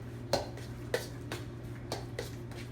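Ricotta mixed in a bowl, with a utensil tapping and scraping against the bowl in a steady rhythm of about six light clicks, close and alone.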